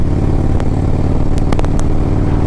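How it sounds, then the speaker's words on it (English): Exhaust of a 2007 Harley-Davidson Road Glide with a 113 Screaming Eagle engine, a loud, deep, steady rumble heard up close on a test ride, with a few sharp clicks over it and no talking. "The exhaust is loud."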